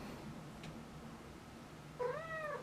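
A cat gives one short, clear meow near the end, fairly close, over a quiet room hum.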